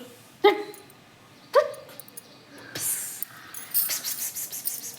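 Pet dogs at home give two sharp, separate barks a second apart, followed by busier household noise and faint higher yips toward the end, moderately close.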